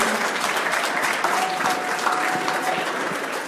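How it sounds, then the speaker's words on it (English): Applause from a crowd at a sponsors' dinner dance in honour of a longtime sponsor, a steady dense clatter of clapping held at an even level throughout. "Come on, he deserves a big round of applause"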